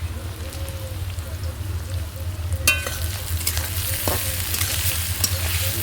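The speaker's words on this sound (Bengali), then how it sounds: "পেঁয়াজটা একটু ভাজা ভাজা হয়ে গেছে, তাই দিয়ে দিচ্ছি গোটা গরম মশলা, দারচিনি, লবঙ্গ, এলাচ আর একটা শুকনো লঙ্কা" Onions sizzling in hot oil with whole cinnamon, cloves, cardamom, a dried chilli and bay leaves, a steady close crackle that flares louder midway as the spices hit, with scraping stirs.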